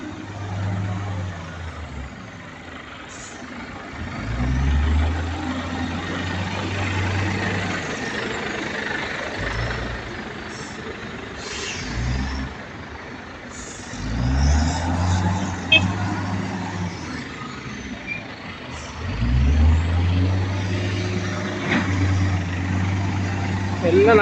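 Several white company trucks idle in Saudi Arabia, a steady low engine rumble that swells in a few heavier pulses over about twenty-four seconds, with voices talking over it.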